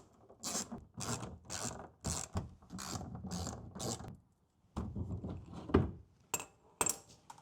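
Ratchet spinning out 7mm bolts on the skid plate cover of a 2021 Chevy Trailblazer with a 1.3L turbo engine, quick close bursts of clicking in repeated runs separated by short pauses.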